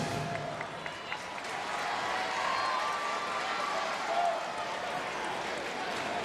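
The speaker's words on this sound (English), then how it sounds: "Healthy crowd here at Gregory Gym enjoying this one." A healthy crowd at Gregory Gym applauds and murmurs during a Penn State versus Texas women's volleyball match. The wash of clapping swells gently in the middle while a commentator talks over it.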